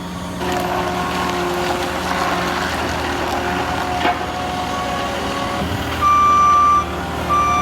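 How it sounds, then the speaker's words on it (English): A truck's backup beeper sounds outdoors. Its tone rings near the end over a continuous engine drone, with a few knocks and clatters scattered through the background. "get a truck, something with a backup beeper on it maybe"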